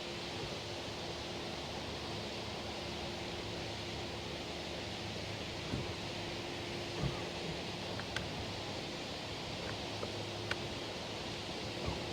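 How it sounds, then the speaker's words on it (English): Wind blowing over a river while fishing, a steady broadband rush with faint rustles and occasional light knocks, with no voices throughout. "wind definitely kind of picked up"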